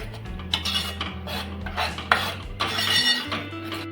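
Masala paste for a black fish curry sautés in a pan, with repeated metal spoon scrapes and clinks against the pan over a low background hum.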